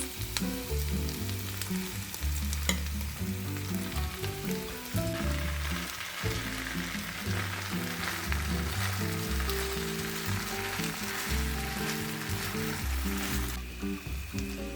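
Cooked rice and vegetables sauté in a pan with a loud, steady sizzle and occasional stirring scrapes. Background music plays throughout the cooking.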